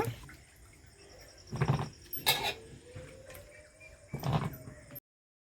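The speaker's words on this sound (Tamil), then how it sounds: "இப்போ தக்காளியை கழுவி எடுத்துக்கலாம்ப்பா தக்காளியில் இருக்க அழுக்கெல்லாம் போகிற மாதிரி நல்லா அலசி எடுத்துக்கலாம்ப்பா" Tomatoes washed in a bowl of water give a few short sloshing splashes and knocks at close range, separated by quieter pauses, with no talk.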